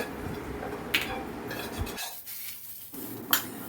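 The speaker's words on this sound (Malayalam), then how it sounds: "ഇപ്പൊ ഇവിടെ വെന്ത അച്ചിങ്ങ വേറൊരു പാത്രത്തിലേക്ക് പകർത്തി മാറ്റുകയാണ്" Cooked long beans are scooped from one pot into another, with scraping, rubbing spoon strokes and a couple of sharp metallic clinks, broken by a brief quiet pause.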